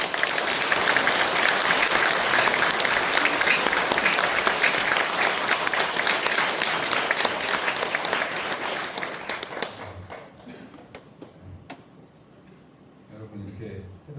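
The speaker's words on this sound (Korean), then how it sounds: "우리 박수로 크게 환영해 주시기 바랍니다" A church congregation at a Thanksgiving early-morning prayer service applauds loudly to welcome the pastor, sustained clapping for about ten seconds that fades, followed by someone speaking.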